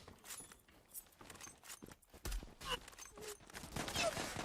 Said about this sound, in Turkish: Şöyle mermi atalım arkadaşlar.